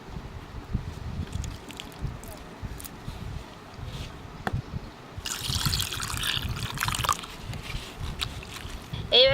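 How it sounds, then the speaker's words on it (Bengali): Water is poured and sloshed off grated potatoes during washing, uneven splashing and trickling up close with a heavier rushing pour in the second half. "এই জলটা ফেলে দিয়ে আর একবার জল দিয়ে ধুবো"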